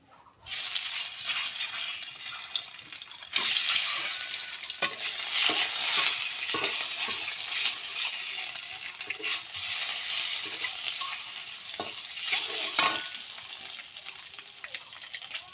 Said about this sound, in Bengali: কড়াইতে তেল দিয়ে দিছি